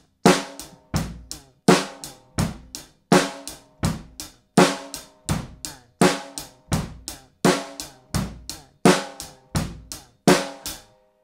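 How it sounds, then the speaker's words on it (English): Basic rock beat played on a drum kit, with steady hi-hat eighth notes, bass drum and snare backbeat repeating in an even, clear pattern throughout, close and alone with no talking. "And that's all there is to that basic rock beat."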